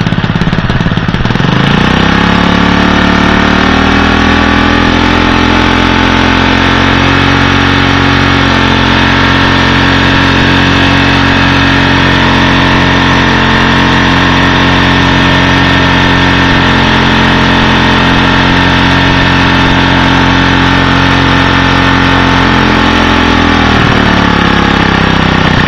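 A small engine fitted with a Pantone GEET fuel processor roars loud and close, its pitch rising as it is revved and held high for a long, steady stretch before dropping back toward idle near the end.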